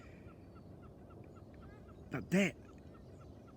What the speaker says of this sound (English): hear that, the sound of the gulls